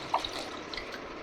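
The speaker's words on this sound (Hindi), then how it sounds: "तो मैं भगवानों को नहला देती हूँ आज ठंडे ठंडे पानी में।" Cold water poured over idols in a home temple while they are bathed, splashing and trickling continuously with a few small drips, close by and moderately quiet, with no voices.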